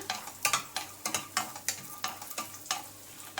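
Small cashew pieces fry in hot ghee, a soft bubbling sizzle broken by regular scraping strokes of a spoon stirring the pan, close and fairly quiet with no talk.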